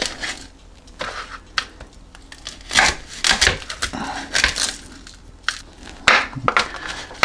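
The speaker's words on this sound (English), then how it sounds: "I'm going to cut the stems off." A knife cutting the stems off dried chilies on a board while making refried beans, a series of close, irregular crisp snaps and thuds.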